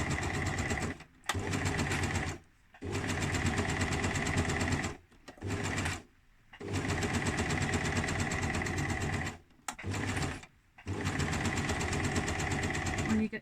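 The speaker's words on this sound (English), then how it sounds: "It's because I'm on my hemming machine." A hemming machine stitching down a pyjama waistband, its motor running in steady bursts of rapid stitching separated by short pauses, close and fairly loud.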